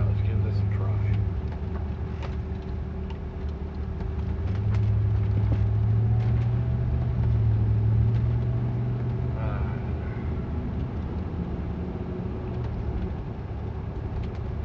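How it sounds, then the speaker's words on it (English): Road traffic rolls past steadily, vehicles swelling and fading in a continuous rumble, with a long louder pass in the middle; no voice over it. "My goodness, what's with all the traffic today?"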